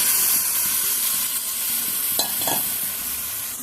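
Potatoes and a poppy-seed, melon-seed and Amul milk mixture go into hot oil with frying spices for aloo dum, giving a steady sizzle with a couple of stirring scrapes partway through.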